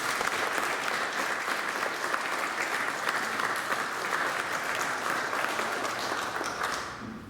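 Sustained applause from a crowd at a city council meeting, steady and fairly loud for about seven seconds before easing off at the end.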